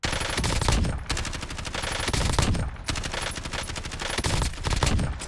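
Rapid bursts of assault rifle fire in Call of Duty Warzone, loud and close, in several sustained automatic volleys separated by brief pauses, with no voices.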